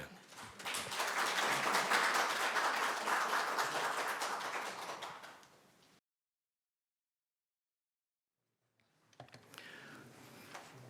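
Audience at a Korean economics seminar claps to welcome a speaker to the stage, a dense, steady burst of applause lasting several seconds before cutting off, followed after a pause by faint scattered sounds.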